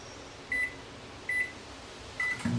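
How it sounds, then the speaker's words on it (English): A microwave oven softening a block of cream cheese beeps three times with short, evenly spaced high tones over a faint steady hum, and a brief thump comes at the end. "I got some block of cream cheese I'm going to soften in the microwave for a minute."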